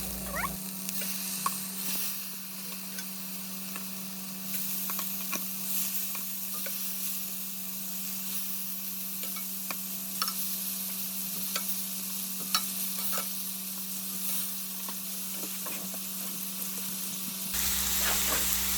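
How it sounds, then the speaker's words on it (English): Shrimp sizzling in a pan on a low stove, with a steady frying hiss and scattered pops and crackles throughout, over a constant low electrical hum. "I grab the shrimp and start putting them here. We're going to do them for a minute"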